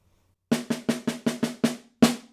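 Solo snare drum etude passage, a run of seven sharp, evenly spaced strokes then a heavier accented hit after a short gap, close and clear with no talking.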